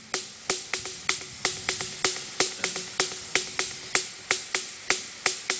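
Sharp, clicky percussive hits in a programmed Euclidean rhythm of three beats spread over eight steps, looping steadily and evenly, fairly quiet and with no talking.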